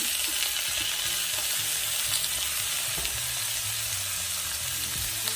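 Seasoned fish with a squeeze of lemon frying in a hot pan, giving a dense, steady sizzle with crackling spits throughout, close and unbroken.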